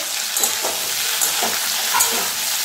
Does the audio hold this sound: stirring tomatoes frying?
yes